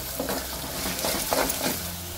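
Half a spoonful of urad dal fries in hot oil while being stirred. A steady close sizzle runs under intermittent scraping stirs, with no one talking.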